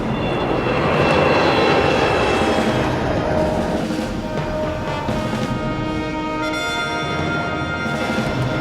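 An Avro Arrow jet fighter roars continuously at full throttle in a maximum climb, a loud, dense, sustained engine rush with steady whining tones and no pauses.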